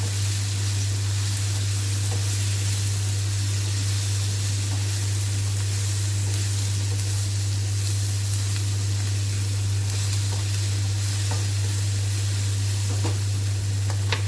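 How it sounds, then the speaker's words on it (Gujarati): Paneer makhni masala gravy of onion, tomato and garam masala sizzles steadily in the pan, a constant close hiss over a low steady hum with no voices. "હલાવી લઈશું બરાબર બધું।"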